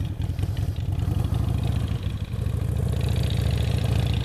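A motorcycle engine chugs at low revs during a moto gymkhana slow-speed cone drill, a steady close throb that dips briefly, then picks up again as the rider works the clutch friction zone.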